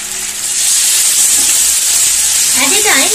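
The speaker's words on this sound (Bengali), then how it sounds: "এবার চিকেনের পিস দিয়ে দিচ্ছি।" Tandoori chicken pieces hit a pan of oil and a little butter with a loud, dense sizzle and hiss that swells in the first half second and stays strong, with a brief voice near the end.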